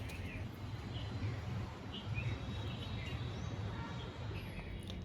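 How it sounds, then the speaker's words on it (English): Faint bird chirps come and go over a low, steady outdoor rumble, with small birds calling intermittently in the distance. "Can you hear the birds chirping?"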